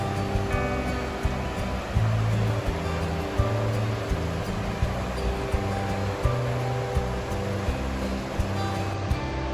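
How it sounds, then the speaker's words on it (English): A river flows beside a hiking trail with an even, constant rush of water and a faint repeating low pulse underneath, close and unbroken, with no voices. "So I'm just sitting by the river for a few more minutes."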